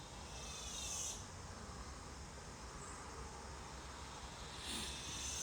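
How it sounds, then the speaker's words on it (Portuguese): Cicadas drone in a steady, continuous buzz outdoors in summer, with a louder high-pitched swell near the start and again near the end over a constant low background hum. "Tempo de cigarra seria verão."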